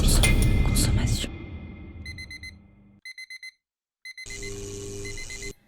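An alarm clock rings in short repeated bursts of high electronic beeping, separated by brief silences and following a loud noisy passage, then settling into a sustained ringing tone near the end.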